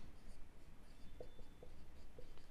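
Steady scratchy writing of a math answer, likely pen or marker on a board or paper, continuous close scraping with faint small taps and low room noise.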